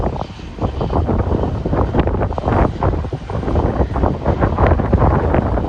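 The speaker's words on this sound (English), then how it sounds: "Rather breezy day up here, as you can tell." Gusty wind buffets the microphone on a breezy day at Burlington International Airport in Vermont, a loud rumbling roar that surges and dips with the gusts, with a distant aircraft engine mixed into the noise.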